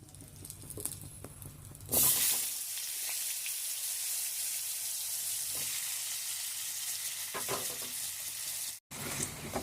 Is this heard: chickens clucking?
no